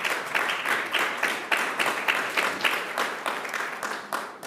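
An audience at a political panel discussion applauds in a dense, steady stretch of rhythmic clapping from many hands, close and loud, fading slightly toward the end.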